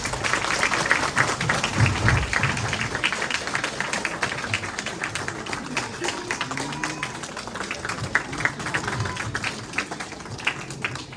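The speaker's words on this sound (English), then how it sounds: "Everyone, a round of applause, please." An audience at a Madison event celebrating the 34th anniversary of a Nobel Peace Prize applauds arriving special guests, a dense, continuous spatter of clapping that holds steady for the full stretch.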